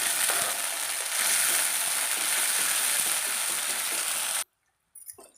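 Onion and tomato frying in a pan give a steady, close hiss and sizzle that runs unbroken for about four seconds, then cuts off to near silence with a few faint clicks.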